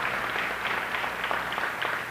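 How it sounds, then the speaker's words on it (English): A crowd at a Garifuna heritage celebration in Brooklyn applauds. The clapping is steady and fills the whole moment at moderate loudness, with no voices over it. "I want you to join me in giving a round of applause to the Borough President of Brooklyn and his staff."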